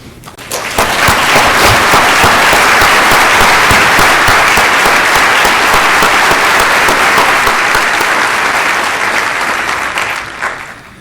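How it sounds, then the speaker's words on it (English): A conference ballroom audience applauds past society presidents, loud dense clapping that swells quickly and holds steady for about ten seconds before tapering off. "would all the past presidents of SSP please stand so we can recognize you and give you a round of applause"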